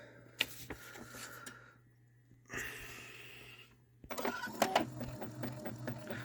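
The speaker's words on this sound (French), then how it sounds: "je vous fais un petit test d'impression d'une photo que j'ai sélectionnée qui comporte beaucoup de couleurs" An Epson ET-2710 inkjet printer prints a colour photo with a quiet whirring mechanism, clicks and short bursts of feed noise broken by brief pauses.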